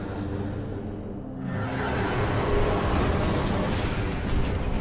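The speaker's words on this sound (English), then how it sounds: "she's completely destroyed the bridge" Dark Samus wrecks a bridge in the video game Metroid Prime 2: Echoes, a sudden loud rumbling blast that starts after a quiet moment and keeps roaring as sustained crumbling destruction with no voices.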